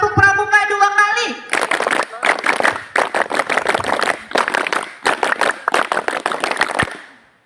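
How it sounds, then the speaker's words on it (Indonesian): Scouts at a hilltop campout do the rhythmic group clap known as tepuk pramuka. A short chanted call opens, then a crowd claps in tight patterned bursts separated by brief pauses, loud and close. "Kalau saya bilang tepuk pramuka, lakukan tepuk pramuka, oke? Oke, tepuk pramuka 2 kali."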